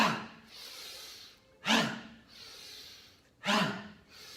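Quick forceful breaths during a breathing exercise, with three sharp nasal exhales about two seconds apart, close and quiet, with softer inhales between them.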